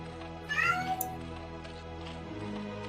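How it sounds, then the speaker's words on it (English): A cat meows once, a short rising-and-falling cry heard up close over a steady background hum, with no talking. "That's my cat."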